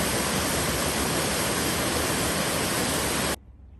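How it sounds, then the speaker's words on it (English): Waterfall on a river flowing into Kent Pond, Vermont, a loud, steady broadband roar of rushing water, close and unbroken, cutting off abruptly near the end. "This river flows right into Kent Pond. That beautiful waterfall."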